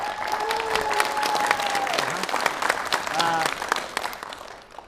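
Audience applause in a television quiz-show studio, steady clapping throughout with brief musical tones and a voice heard over it.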